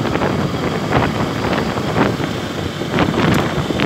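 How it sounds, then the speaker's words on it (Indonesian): Steady wind buffets the microphone while riding a Yamaha Nouvo scooter outdoors, a loud, continuous rumble with slight gusting swells and no voices. "Sejuk sini angin."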